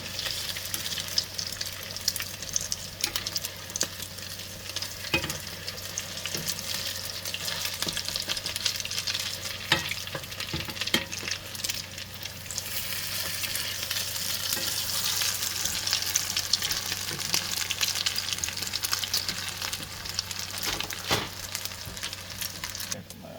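Salmon patties fry in a hot pan, giving a continuous sizzle with occasional pops and scraping stirs, close and fairly loud throughout with no speech.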